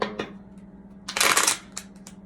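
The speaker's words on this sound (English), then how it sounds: "All right, one more shuffle." Thoth tarot card deck being shuffled by hand, a few quick riffling bursts with one longer loud flurry in the middle, close and clear with no talking.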